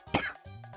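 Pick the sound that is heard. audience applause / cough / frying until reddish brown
cough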